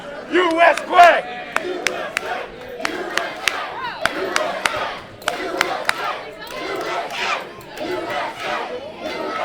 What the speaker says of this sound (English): Crowd get behind Matt Quay.